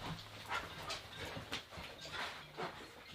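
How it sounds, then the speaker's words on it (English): Dogs whimpering and yipping indoors in repeated short whines and bursts, fairly close and moderately loud, with no speech over them. "let me go let these dogs upstairs real quick"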